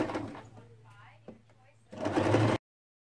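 A sewing machine stitches sleeves onto an abaya in two short bursts of close whirring, with quiet handling noises in the pause between them. The sound cuts off abruptly at the end.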